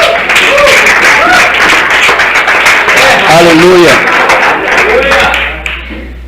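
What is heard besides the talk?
congregation applauding the word of God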